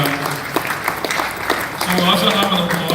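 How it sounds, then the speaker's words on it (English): Applause for the organizers at a real estate conference, a short burst of clapping from the audience heard together with a speaker's voice on the microphone. "Please a round of applause for them."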